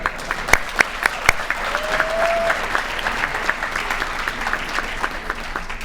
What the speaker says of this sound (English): Give our Vanna White a round of applause here.